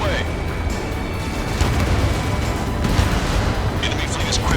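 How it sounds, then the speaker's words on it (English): A missile launches from a jet in the combat flight game Ace Combat 7, a steady roaring rush of engine and launch noise that fills the whole stretch, loud and dense, with radio voices over it. "Missile away."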